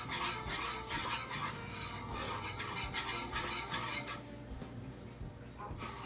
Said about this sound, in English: And you have to constantly be stirring it.